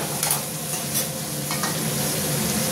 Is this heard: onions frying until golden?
yes